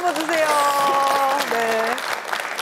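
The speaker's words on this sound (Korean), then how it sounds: "박수 한번 주세요." Studio audience applause rises for a young trot singer on a Korean broadcast, a dense wash of clapping heard beneath sustained musical or sung tones, fairly loud and brief.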